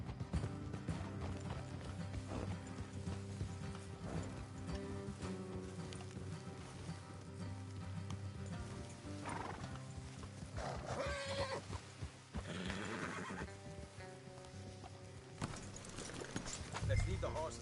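Video game horses gallop with rhythmic clip-clop hoofbeats and occasional whinnies, faint beneath a busy mix of music and talking voices.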